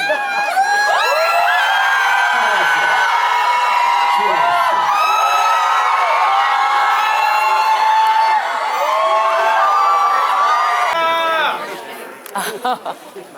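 Korean cinema audience screams and cheers loudly during a film stage greeting, a sustained roar of high shouting voices for about eleven seconds before abruptly dropping to scattered talk and a few yells.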